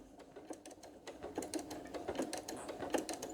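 A sewing machine stitches quilt binding in a quick, steady, rattling run of needle strokes, fairly faint and heard alone.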